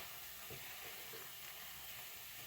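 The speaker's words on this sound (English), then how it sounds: "Now see how the onions are cooking here?" Onions frying in a pan with a steady, loud sizzle and hiss that holds constant throughout, with a few faint stirring bumps underneath and no talking.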